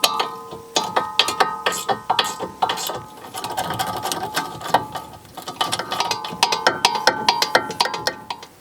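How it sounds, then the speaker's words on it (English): Ratchet wrench tightening the rear wheel bearing hub bolts on a 2013-2017 Honda Accord, with rapid clicking bursts repeating in uneven runs, close and fairly loud, and no talk. "Once it's fully drawn into place, tighten them fully."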